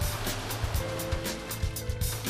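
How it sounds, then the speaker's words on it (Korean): Rough sea surf rolls onto a beach at a Vietnamese fishing village where round plastic basket boats launch, a loud continuous roar with repeated crashing wave bursts. "거친 파도 위에 까이통을 올리고 능숙하게 노를 저어 바다로 나갑니다"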